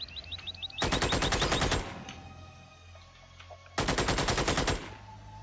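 Two long bursts of rapid automatic gunfire from the video game Xenonauts X Division, each about a second, loud and close, with a short series of rising electronic blips before the first burst.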